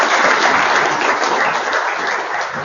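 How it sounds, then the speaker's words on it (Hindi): A crowd at an International Yoga Day 2023 event in Ambala applauds loudly and continuously, a dense wash of clapping throughout. "जोरदार तालियां"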